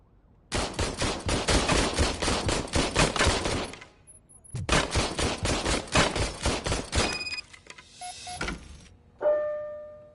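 Old service pistol fired in RoboCop: Rogue City, two long rapid strings of close, sharp shots separated by a brief pause, ending with mechanical clicks and tones.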